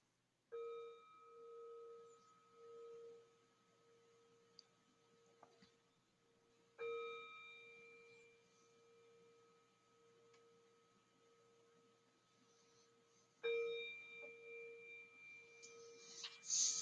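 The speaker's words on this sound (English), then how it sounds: "Get my bell here." A meditation bell is struck three times, each strike giving a clear sustained ringing tone that slowly fades in a quiet room, with long gaps between strikes.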